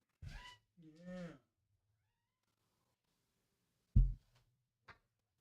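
A house cat meows twice up close in a quiet room, then gives a short sharp chirp and a faint final mew after a long pause.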